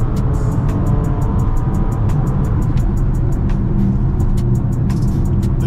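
A Bentley car driven hard through streets, engine roaring steady and loud with heavy low-end rumble, regular clicking ticks running over it, no voices.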